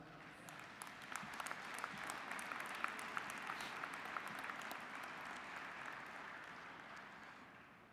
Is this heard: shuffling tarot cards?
no